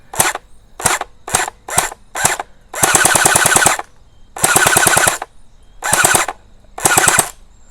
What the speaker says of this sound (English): you can actually shoot one shot